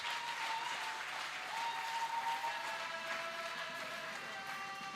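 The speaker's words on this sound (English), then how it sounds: "Let's give him a round of applause." Steady applause fills a hall at a church leader's courtesy visit, a continuous even roar of many hands clapping throughout, with a faint sustained tone running through it.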